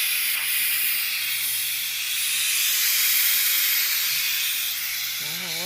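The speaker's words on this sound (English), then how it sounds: "Now I'm going to do the quick release to finish that. Do the steam." A pressure cooker cooking an elk pot roast vents steam on quick release, a loud, continuous broad hiss up close that holds steady throughout, with a brief faint tone near the end.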